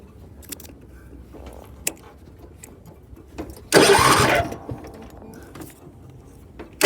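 A farm machinery engine cranks and catches in one loud burst of about a second, then drops back to quieter rattles and clicks nearby, with a sharp sound returning at the very end.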